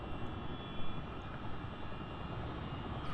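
Aircraft engines run at a steady, loud roar with condition levers set to flight ahead of takeoff, a continuous broadband drone in a cockpit during a thunderstorm, with no talk.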